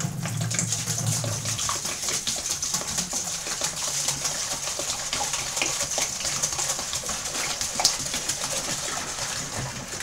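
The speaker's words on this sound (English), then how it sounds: "Now that splashing is good for it because it aerates it." Cooled homebrew wort pours and splashes from a no-chill cube into a sanitised fermenter, a steady broadband rushing and gurgling of liquid that continues close and fairly loud throughout, with a low hum fading early on.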